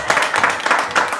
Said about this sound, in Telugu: గట్టిగా క్లాప్స్ కొట్టండి అమ్మా